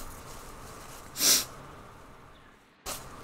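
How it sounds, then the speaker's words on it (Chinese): A short, forceful nasal blow bursts out once, followed a second and a half later by a second brief puff of breath, close and alone. "我擤鼻涕一下"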